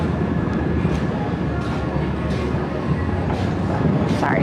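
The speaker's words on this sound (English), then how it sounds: "So that as the trains and stuff go by underneath," Subway trains rumble continuously beneath a sidewalk grate art installation in New York City on a freezing winter day, a broad steady roar with faint metallic squeals and clicks on top.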